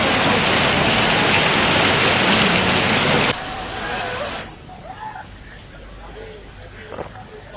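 Heavy monsoon rain pours in a loud, dense hiss that cuts off abruptly partway through, giving way to a quieter scene with faint voices.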